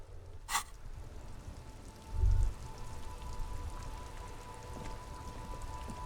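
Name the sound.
rain falling in the video game Disco Elysium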